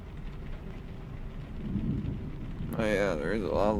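Rain and rumbling thunder from a storm sound in a truck driving game, with a dense wash of noise throughout and a loud rolling crack near the end, close and full.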